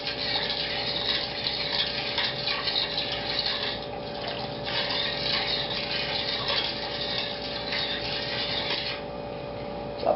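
Four or five cups of water pour into a pan of meatballs and gravy in a home kitchen, a steady close rush and splash lasting about ten seconds.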